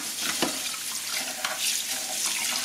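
Running water splashes steadily as the roller of a Tineco Floor One S3 cordless wet-dry floor washer is rinsed under a tap, close and continuous with faint clinks and no talking.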